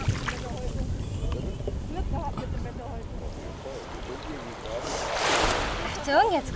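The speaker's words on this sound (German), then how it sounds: "Achtung, jetzt kommt gleich wieder eine Welle." Sea waves wash onto a Fuerteventura beach in a steady surging rush, with a louder wave swelling near the end while people talk and a child squeals close by.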